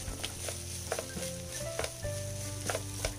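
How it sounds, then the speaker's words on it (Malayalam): Cooled rice stir-fried in a pan for restaurant-style fried rice, giving a soft, continuous sizzle under a low steady hum, with faint scrapes and taps of stirring and no talk. "നമ്മളിതിനെ ഇങ്ങനെ വഴറ്റി വഴറ്റി ഫ്രൈ ചെയ്തെടുക്കുന്ന രീതിയിലാണ്"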